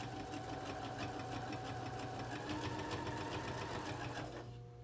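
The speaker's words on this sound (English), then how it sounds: "I'm going to do a back stitch to the edge and then come forward." A sewing machine runs steadily for a back stitch along the edge of a fabric bin, a close mechanical whir with rapid rhythmic needle ticks that cuts off near the end.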